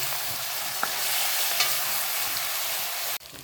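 Onion frying in a pan with oil, a steady close sizzle with a couple of stirring clicks, continuing alone for about three seconds before cutting off.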